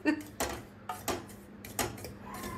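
A spoon scrapes and clinks against a heavy, hot kadhai while baby food of moong dal and rice is stirred, a handful of quiet metallic knocks spaced irregularly with the gas off.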